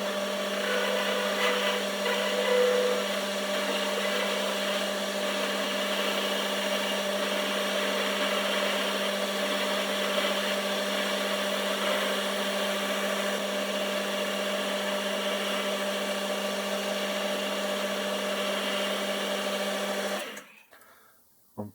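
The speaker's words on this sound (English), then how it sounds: "I'm just going to turn the diameter down, put an undercut in, and put a 3BA thread on" Metal lathe turning down a diameter on a small workpiece before an undercut and 3BA thread, a steady loud motor whine with tonal machining hum that runs unbroken, then cuts off abruptly near the end.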